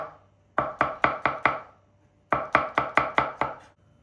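Rapid knife chopping of vegetables on a cutting board, two bursts of about five or six crisp, evenly spaced strikes separated by a short pause.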